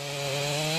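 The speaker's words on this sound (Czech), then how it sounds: "Venku kluci řežou motorovou pilou." A chainsaw runs outside while heard from inside the cab of an LKT 150 skidder, a steady muffled engine whine with a sustained pitch, moderately loud and unbroken, with no talking.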